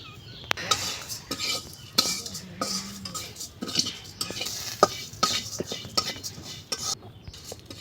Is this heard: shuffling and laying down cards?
no